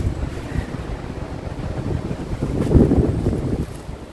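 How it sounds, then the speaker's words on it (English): Wind gusts across an open castle graveyard at Kilkea, a steady low roar of buffeting microphone noise that swells louder toward the end, with no voices. "Getting back out into the wind, of course."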